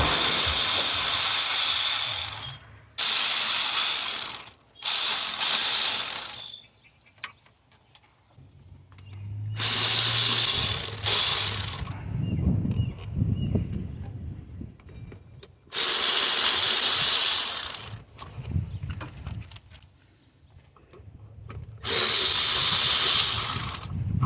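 A ratchet loosens 10mm bolts on the upper intake manifold of a Nissan 3.5L V6. Several loud bursts of rapid clicking are separated by pauses with faint low clunks of handling in between, and nobody speaks.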